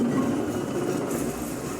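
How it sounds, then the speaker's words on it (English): A train hurtles down the tracks in the Control video game, a steady, loud rolling rumble with metallic clatter running unbroken from start to finish, with no voices. "Because train hurtling down the tracks, loud crash."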